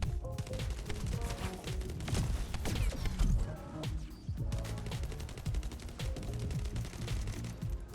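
Rapid weapon gunfire pours steadily onto a boss in the shooter game The First Descendant, dense continuous shots with impact crashes layered over game effects, loud and unbroken.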